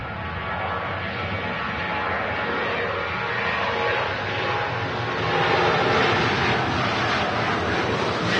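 A KLM Boeing 737 airliner passes at Manchester Airport as a broad, steady roar that swells gradually and stays loud through the whole stretch, with wind buffeting the microphone.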